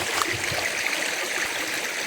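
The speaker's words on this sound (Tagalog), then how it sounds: "Ito yung ilog." A clean river close by flows with a steady, dense rush and bubbling, even and continuous, with no talk.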